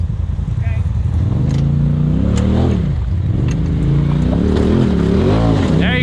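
An off-road vehicle's engine revs and strains up a climb at Windrock, with rising and falling pitch under loud, continuous voices giving driving directions.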